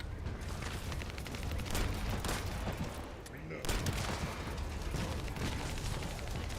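Rapid pistol shots in the shooter game The First Descendant, firing in dense continuous volleys with a brief pause midway, loud and close over a busy game soundscape.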